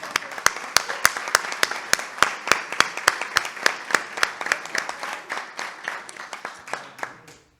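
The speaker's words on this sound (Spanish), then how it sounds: "Entonces, un fuerte aplauso." An audience at an Ateneo book presentation applauds don Jesús, with one pair of hands clapping sharply and regularly close by over the softer wash of the room's clapping, which tapers off near the end.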